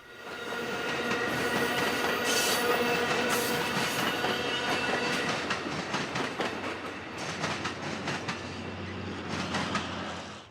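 An Amtrak train runs past on railroad track near farmland in Pomona, California, with a steady loud rumble and rhythmic wheel clatter over roughly ten seconds, building and then easing slightly toward the end, with no voices.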